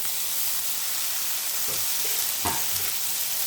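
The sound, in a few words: sautéing tomatoes and onions for fenugreek gravy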